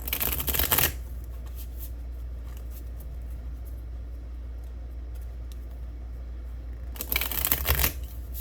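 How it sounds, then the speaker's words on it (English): Tarot cards are shuffled in two short, crisp riffling bursts at the start and the end, close and clear, with a quiet low hum in between. "let's try to shuffle again."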